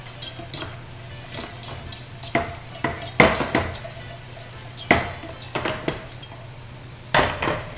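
Egg yolks whisked quickly into a pot for papoutsakia sauce, heard as a run of metal utensil clinks and scrapes against the pot at an irregular pace over a low steady hum, with no voices.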